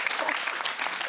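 Studio audience applause on a Norwegian Eurovision preview show, a brief, dense patter of clapping from a sizable crowd, steady throughout with a faint voice mixed in.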